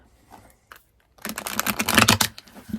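Tarot cards riffled and shuffled by hand, a dense run of papery flicks and snaps building after a few soft taps, close and fairly loud with no talking.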